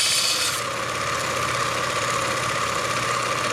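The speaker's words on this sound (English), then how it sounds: "This grinder runs relatively slow and very cool." A slow-running bench grinder sharpens a machinist cutter, making a steady, close abrasive rasp over a low motor hum, with a brighter hiss in the first half-second.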